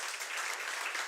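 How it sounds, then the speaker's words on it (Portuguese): Steady applause from a church congregation, a dense wash of clapping that continues evenly throughout without a break. "Aplauda o Senhor,"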